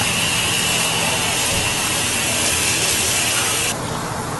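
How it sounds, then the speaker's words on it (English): Water sprayed from a hose, a loud continuous hissing spray that runs steadily and close up, easing slightly toward the end, with no talking. "So I'm gonna spray it"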